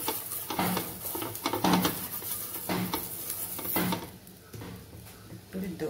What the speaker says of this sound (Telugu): ఒకసారి ఆనియన్తో మొత్తం క్లీన్ చేసి